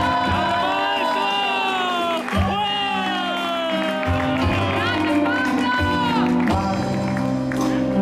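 Audience applause and cheering at a winter festival in Piazzola sul Brenta for maestro Pablo's birthday, mixed with loud sustained orchestra music and voices throughout.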